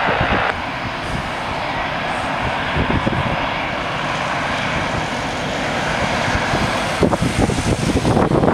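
A Titan Airways Airbus A321 jet airliner taxis onto a runway holding point at Manchester, its engines giving a steady, loud, continuous roar throughout, rising slightly with a brief rumble near the end.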